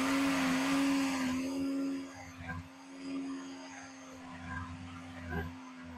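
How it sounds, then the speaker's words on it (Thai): A blender blending an avocado and fresh milk milkshake whirs loudly at a steady high speed, then its motor tone drops and churns more roughly as it keeps running. "แล้วก็ทำการปั่นเลยเนาะจ๊ะ"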